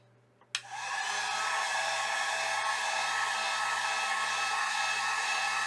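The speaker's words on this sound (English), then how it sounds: "So just have my heat gun on low." A heat gun set on low switches on with a click and then blows a steady, even whooshing hiss that stays constant and close for several seconds, with a faint low hum underneath.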